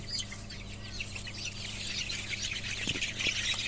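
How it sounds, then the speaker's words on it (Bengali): Native chicken chicks cheep and squawk continuously and fairly loudly, with a brief flurry of scuffling as they are caught by hand, the clucking of adult fowl mixed in nearby. "দেশি মুরগির বাচ্চাগুলো ধরাটাও খুব ঝামেলা আর কি দৌড়াদৌড়ি করে অনেক চঞ্চল"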